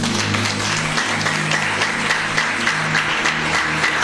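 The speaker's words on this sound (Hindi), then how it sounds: "जोरदार ताली बजाओ प्रभु के लिए" A church congregation claps loudly in praise during a worship service, a dense, continuous wash of many hands with a steady low musical drone underneath, sustained for the whole stretch without a break.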